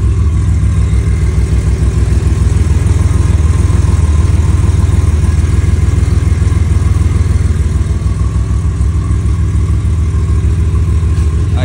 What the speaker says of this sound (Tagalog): parinig ko sa inyo yung tunog ng 964 Turbo.